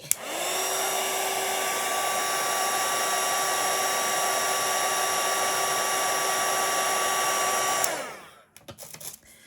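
A hair dryer blows steadily and loudly on a watercolor painting of a moth for about eight seconds, then switches off and winds down, leaving a few faint handling noises.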